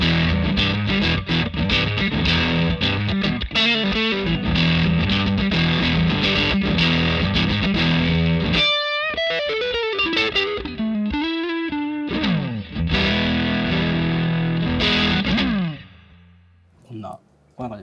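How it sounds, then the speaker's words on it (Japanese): An electric guitar runs through a Victory VC35H Deluxe amp head set for heavy distortion: loud chugging chords, then a run of single notes and a final ringing chord that fades out. "結構しっかり歪みますね。"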